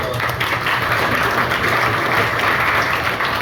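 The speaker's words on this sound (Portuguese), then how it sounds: "Vamos salvar de palmas para o nosso grupo 1 aqui, pessoal." A crowd claps in steady, continuous applause, dense and fairly loud, with no pauses.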